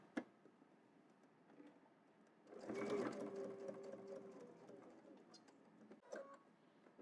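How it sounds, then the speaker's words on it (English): A sewing machine stitches into the corner of a double-breasted jacket, a steady whirring run of about three and a half seconds that rises over quiet room noise, with a few faint clicks before and after. "now I'm going to stitch directly into the corner"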